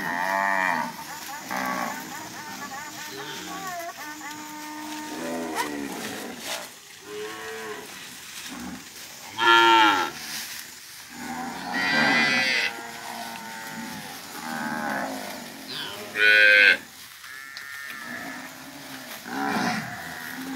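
A cattle herd on an overland cattle drive in northern Mato Grosso, Brazil, moos loudly and repeatedly. Several long, drawn-out calls overlap and follow one another, with no talk.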